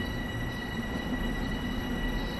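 LIRR train rolling over a switch on the Rockaway Beach branch in Train Sim World, a continuous rumbling run with steady tonal hum and no distinct clacks, no speech.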